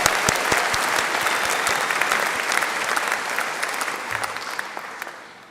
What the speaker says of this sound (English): Please join me in giving them another warm round of applause.